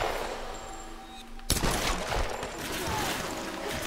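A machine gun fires in Tomb Raider, a sudden loud burst of rapid shots after a quieter stretch, then continued rattling gunfire against a noisy background.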